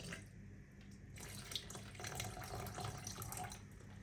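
Water pours into a mixing container at one part water to a measured powder, during a model railway section build; a faint, steady splashing stream runs for about four seconds with no speech.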